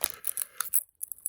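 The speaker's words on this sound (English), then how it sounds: "We've been ripping packs here." A UFC Knockout 2025 trading card pack is torn open by hand. Quick, close crinkling rips of foil wrapper come in a short flurry of tearing bursts lasting about a second, with no voices.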